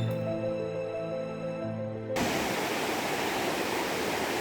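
A steady, broadband waterfall roar near Chiapa de Corzo in Chiapas, Mexico, cuts in abruptly partway through after a musical intro, then continues loud and unbroken.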